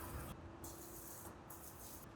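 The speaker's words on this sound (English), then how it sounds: "Just evenly spray it across." A water jet hisses in bursts across a Royal Enfield Himalayan 450 motorcycle being washed at home, a bright spray that cuts out and restarts several times, fairly quiet and close with no talking.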